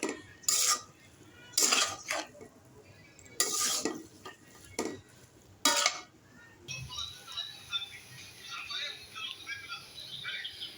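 Noodles being cooked in a pan, with sharp metal utensil scrapes and clanks against the pan in bursts, then a softer sizzle with quieter stirring.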